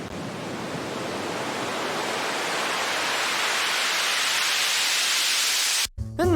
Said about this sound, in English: Add a white noise riser to bring the energy going into the drop.